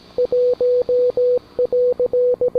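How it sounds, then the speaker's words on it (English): Loud Morse code from an attic camera: a steady single-pitch tone keyed in a rapid mix of short dots and longer dashes, clean and close with no talk. "the attic cam was caught throughout the day playing a very mysterious Morse"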